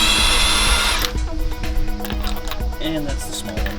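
A power tool whines loudly for about a second, then falls to intermittent lower-level rattling and clicking with brief bursts while people talk in a garage during a brake pad and rotor job.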